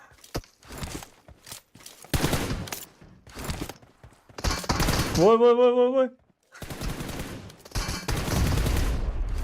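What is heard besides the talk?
pistol gunfire in PUBG Mobile video game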